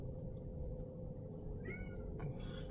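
A house cat meowing outside to be let in, several faint, drawn-out meows and short chirps spread across a steady background hum, with no talking.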